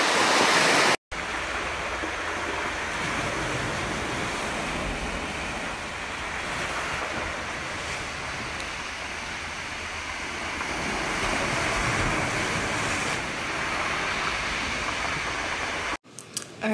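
Ocean waves wash and roll onto a beachfront in Jamaica, a loud continuous surf roar with some wind buffeting the microphone, swelling slightly toward the end, with no talking.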